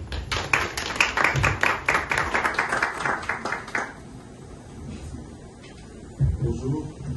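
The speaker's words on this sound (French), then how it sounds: "On accueille l'ambassadeur, on applaudit." Audience applauding an arriving ambassador at a press conference in Brussels: a few seconds of dense, close clapping that thins out and falls away, then a brief scattered burst of clapping near the end, with some voices underneath.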